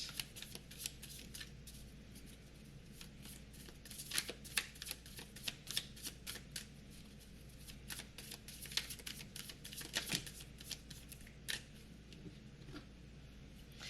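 Lightseers Tarot deck cards shuffled in a quiet room, a steady stream of soft riffling flicks and taps running continuously, close and fairly faint, with no talking.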